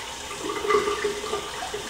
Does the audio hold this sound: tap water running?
yes